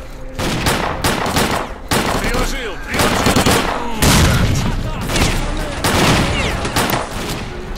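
Rapid bursts of gunfire from the shooter game S.T.A.L.K.E.R.: Clear Sky, loud and continuous, with overlapping volleys and automatic fire spread across the whole stretch.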